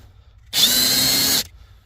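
A cordless power tool runs in a single loud burst of about one second while unscrewing a seat bolt on a Ford Focus MK4, starting and stopping sharply against near silence.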